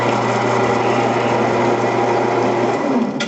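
A lathe runs while a tap cuts threads into a workpiece, producing a loud, close, steady motor whine that holds throughout and eases off at the very end.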